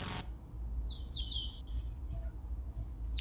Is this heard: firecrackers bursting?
no